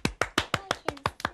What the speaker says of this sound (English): Let's give Hayley a clap